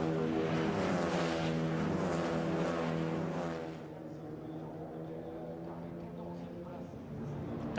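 A Renault Clio Cup race car at Paul Ricard revs hard with a loud, steady engine tone that eases off midway, heard under continuous race commentary.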